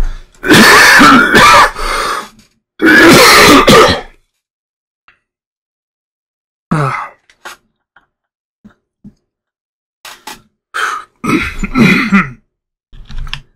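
Harsh coughing fits and throat clearing from one person nearby, two loud bursts followed by scattered smaller coughs and throat clears after a quiet gap.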